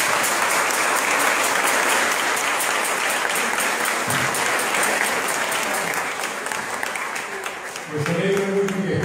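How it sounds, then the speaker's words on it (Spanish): Congregation applauding inside a small chapel during a visit for a Saint Anthony of Padua celebration; steady, dense clapping sustained throughout, with a few voices emerging near the end. "Un aplauso para Berenice."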